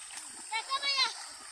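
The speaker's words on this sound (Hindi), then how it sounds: "ये देखिए बच्चा कैसे तैर रहा है।" A child swimming in a deep stretch of canal water sends up several soft splashes in quick succession, close by and moderate in volume, with faint background sounds around them.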